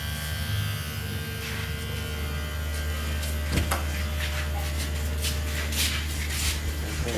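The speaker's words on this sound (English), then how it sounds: "This is the compressor. And this is the compressor driver." The DC compressor of a solar ice block machine runs with a continuous electric buzz and whine, broken by a few brief clicks and rattles near the middle.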